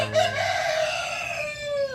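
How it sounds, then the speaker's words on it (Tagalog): A chicken calls out nearby in a drawn, clucking cackle that rises and trails off, with quieter fowl sounds underneath. "Manok."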